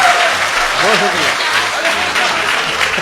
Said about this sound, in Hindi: जोरदार तालियां एक बार जहाज देवबंदी साहब के लिए